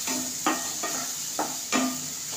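Finely chopped tomatoes and capsicum cook in a pan for tawa masala pav. A spatula gives several sharp clinks and taps against the metal over a faint, steady sizzle, with no talking.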